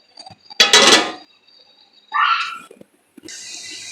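Metal lid clanking onto a pot of khichuri cooking on the stove, two sharp clattering contacts close by with quiet gaps between, followed by a soft hiss.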